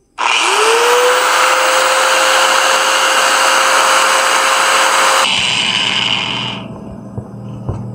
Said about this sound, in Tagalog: Testing naman natin itong grinder